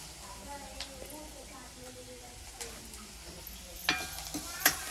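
Onions fry in a pan for a brinjal curry, giving a soft, steady sizzle with a few stirring clicks and scrapes that sharpen near the end, while a voice speaks quietly underneath.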